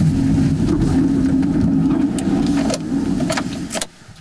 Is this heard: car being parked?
yes